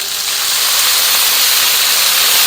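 Water hits a hot griddle under cheesy smash burgers and bursts into loud, steady steam hiss that holds constant throughout.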